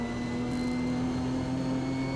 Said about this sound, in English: Oh, look, aeroplane behind us